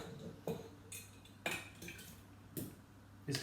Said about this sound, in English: you're going to carefully spoon it into your jars